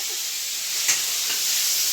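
Spice tempering for a potato curry sizzles and hisses in a hot pan, a steady high frying hiss with a brief stir clatter near the middle, no talk.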